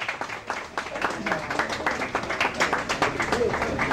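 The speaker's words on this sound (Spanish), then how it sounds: "Démosle un aplauso, por favor." An audience claps in a lively, continuous burst of applause for a performer from San Francisco, El Salvador, the rapid claps filling the whole stretch at moderate distance.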